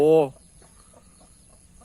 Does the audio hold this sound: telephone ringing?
no